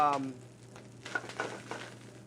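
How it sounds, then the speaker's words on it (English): Fish roe, dusted in flour, sears in olive oil in a hot pan, a steady close sizzle with faint stirring or pan scrapes and a brief clink at the start. "The roe is seared in olive oil."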